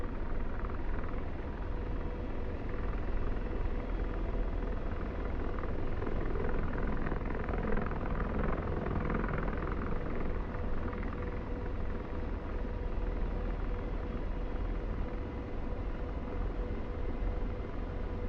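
An AH-64D Apache helicopter in the DCS flight simulator gives a steady, loud, broadband rotor and turbine roar that holds unchanged for the whole stretch, with no talking over it.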